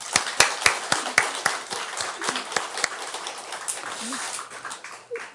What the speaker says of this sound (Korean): 우리 다 같이 하나님께 영광의 박수 한번 돌리자.